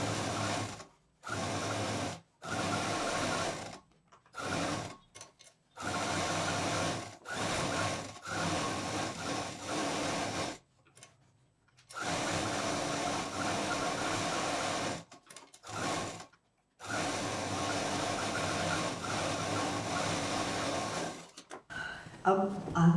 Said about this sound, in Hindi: मेन फैब्रिक मतलब नीचे का जो एक सही नाप है उस पर मशीन चलाएंगे